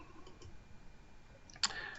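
A single sharp mouse click sounds near the end of an otherwise quiet stretch, made while launching a compiled Uniface 10 application on a computer.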